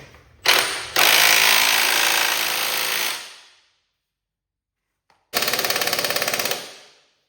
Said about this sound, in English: we might have to use an air wrench.